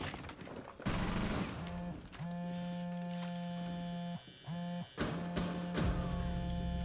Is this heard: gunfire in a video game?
yes